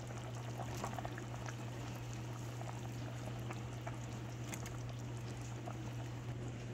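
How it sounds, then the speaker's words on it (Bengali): A pot of mutton curry cooks steadily while potatoes go in, giving a continuous close bubbling and sizzling wash over a low steady hum, with no voices. "এখন আম্মু এটাতে আলু দিয়ে দিচ্ছে।"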